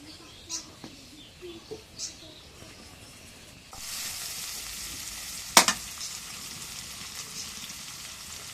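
Bay leaves dropped into hot oil for a chicken curry start a steady, moderately loud sizzle partway through, with a sharp clatter in the middle and a few faint earlier sounds before the frying sets in.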